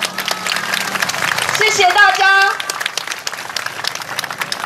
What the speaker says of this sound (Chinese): 给自己一个热烈的掌声好吗？